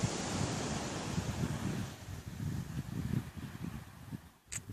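Waves washing onto a long beach at dusk, a steady distant roar of surf blended with wind rumble on the microphone, faint and continuous with no voices.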